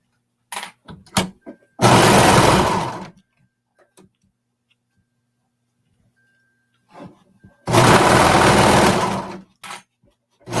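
A sewing machine stitching a seam with a 3-inch seam allowance: two loud, steady whirring runs of a second or two each, close up, separated by quiet stretches with small handling clicks.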